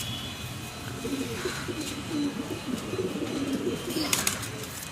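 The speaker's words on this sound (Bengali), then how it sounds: "এই যে আন্ধ্রা পায়রা দেখুন" Andhra pigeons, a male and female being paired, give low, soft cooing that rolls on steadily throughout, fairly close, over faint background hiss.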